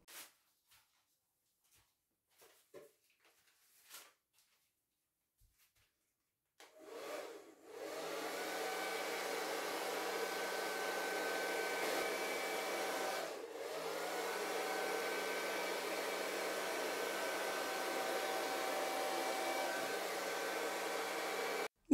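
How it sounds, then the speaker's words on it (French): A hair dryer blows paint across a canvas for a Dutch pour, switching on with a loud, continuous whirring hiss, briefly dipping once before resuming; a few soft taps precede it. "comment la peinture est projetée par le sèche-cheveux"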